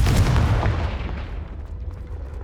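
A Confringo fire spell explosion in the video game Hogwarts Legacy bursts loudly at the start with a heavy low rumble, then fades into a decaying roar over about two seconds.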